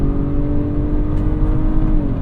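A 2024 Acura RDX engine pulls hard while merging onto a highway, heard from inside the cabin as a steady, loud drone with road hum beneath it.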